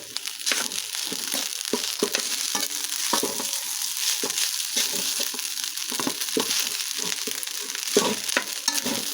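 Spam, lechon meat, ham and chicken nuggets fry in a pan with a constant close sizzle, broken by repeated scraping and stirring strokes.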